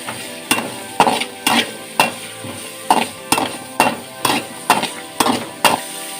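Onions stirred in a frying pan with a spoonful of oil and cumin, with regular scraping strokes about every half second over a steady low sizzle, close and fairly loud, with no one talking.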